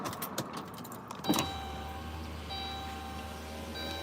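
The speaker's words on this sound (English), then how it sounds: "I gotta roll my window up" A car's power window hums steadily as it rolls up, a low motor whine under faint outdoor ambience with a brief click near the start.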